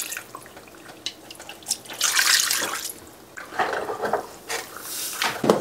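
Liquid pours over food in a pan during batch cooking, with splashing and dripping in short uneven bursts. A close, fairly quiet pour with light kitchen clatter and no speech.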